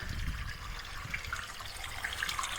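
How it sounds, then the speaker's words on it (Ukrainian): A garden pond waterfall runs steadily, making a quiet, continuous splashing and trickling of water with no voices over it. "Водоспад функціонує."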